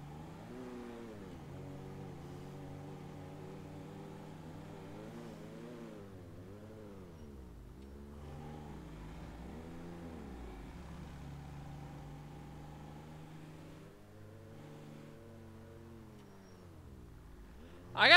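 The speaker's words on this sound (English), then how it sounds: "I got a Lamborghini following me." A Lamborghini engine in a video game revs repeatedly, its pitch sweeping up and down in waves of acceleration and easing off, moderately distant and steady, ending with a sudden loud burst.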